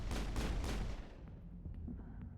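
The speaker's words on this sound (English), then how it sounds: "Oh, he's using a shotgun, that's why." Enemy shotgun blasts in the video game Mass Effect: dense, heavy gunfire bursts crowd the first second, then fade into a rumbling, quieter battle din with scattered softer shots.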